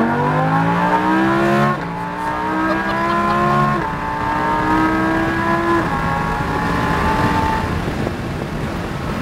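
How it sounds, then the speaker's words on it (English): A Lamborghini Huracan accelerates hard on a race track, its engine note climbing steeply through several quick upshifts, loud and close with a steady roar and no talking. "Roll into that throttle and hit it."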